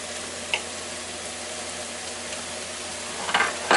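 Food sizzling in melting butter in a pan: a steady, soft frying hiss continuing throughout, with a few brief clinks and scrapes near the end.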